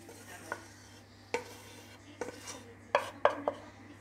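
A spoon clinks and scrapes against a dish while sauce goes over a chicken and vegetable gratin, a handful of sharp, quiet taps spaced irregularly over a low steady hum.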